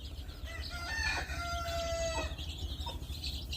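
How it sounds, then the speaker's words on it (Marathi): A hen with chicks gives drawn-out crowing-like calls and clucks close by, over a steady low background hum and without any talk. "हे बघा कोंबडी कशी त्यांना उकरायला वगैरे शिकवते"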